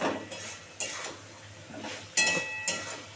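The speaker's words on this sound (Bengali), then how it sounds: "সবুজ সজনা ডাঁটা একটুখানটা কষাবো" Green drumstick pieces are stirred in oil, giving a few separate metallic scrapes and clinks of a utensil against a pan over a faint background hum, with no voices.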